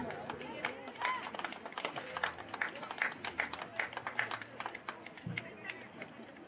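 Parents, guardians and grandparents give a faint, sustained round of applause at a high school football team ceremony, with dense scattered clapping mixed with crowd chatter and voices.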